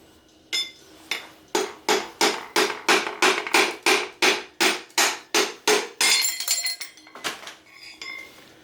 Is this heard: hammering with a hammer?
yes